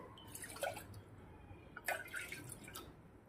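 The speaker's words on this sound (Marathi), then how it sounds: "आता आपण दोन वाटे पाणी घेणार आहोत" Water drips and splashes into a pan in a few short bursts, fairly quiet, with a faint trickling between them, while making modak dough.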